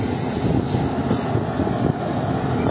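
A car-carrying rail shuttle in Switzerland, loaded with cars such as a Ferrari, gives a steady loud rumble of rolling wagons and wheels on track, continuous and close throughout with no talk.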